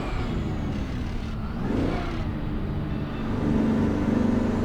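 Truck engine noise from the 12V71T engine sound pack in American Truck Simulator: a steady, loud diesel drone with a rise in revs partway through, continuous with no talk over it.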